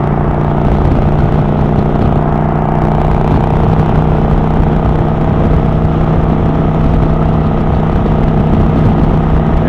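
A motorcycle engine drones steadily while riding along roads in Virginia, a continuous loud mid-pitched hum with a rough mechanical rattle and no pauses throughout.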